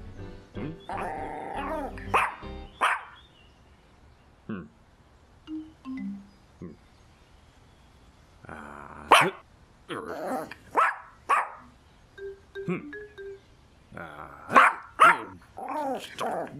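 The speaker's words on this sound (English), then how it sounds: "the dog here trying to cook my lunch" A cartoon dog barking in an animated episode, a series of sharp yaps and woofs in irregular bursts, close and loud, with short growly sounds between quiet gaps.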